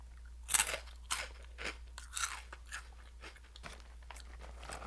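Munchos crunchy snack chips being chewed close to the mic, with a string of crisp crunching bites that are loudest at the start and fade into softer munching, with no talking.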